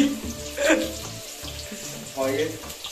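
Potatoes frying in hot oil in a home kitchen pan, giving a steady sizzle with watery crackle bursts and a faint background hum, heard alone without talk.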